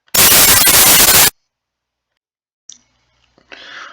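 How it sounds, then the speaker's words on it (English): White noise from a synthesizer noise generator sounds alone as a loud, steady full-band hiss for about a second, then cuts off abruptly, leaving near silence with a few faint clicks and a soft trailing noise. "If I get rid of the square wave so that you hear only the white noise"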